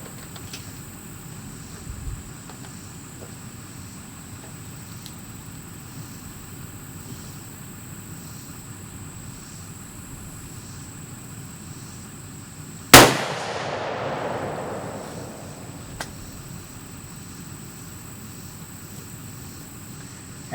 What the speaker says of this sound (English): We're going to fire another shot.